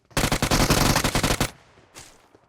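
Rapid automatic gunfire in PUBG Mobile, a loud sustained burst of shots lasting over a second, then a faint trailing echo and a quieter single report afterward.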